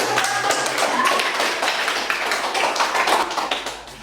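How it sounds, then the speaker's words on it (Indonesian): A high-school class in Lenteng claps together, a dense run of hand claps and taps filling the room at steady loudness with no talking over it. "Oke, kalau sudah tepuk tangan"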